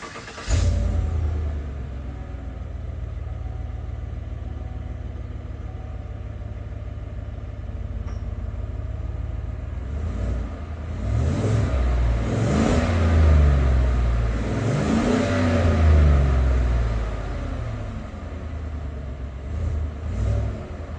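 A stock 5.3 V8 engine in a Tahoe cold-starts, cranking and catching, then settles into a steady, low, rumbling idle before rising into a few throaty revs.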